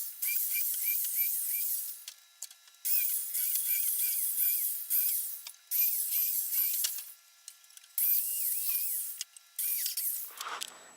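A small power drill whines in repeated short bursts with pauses between, each burst a high buzzing drill run, fairly close, drilling nail pilot holes in wood for a workbench.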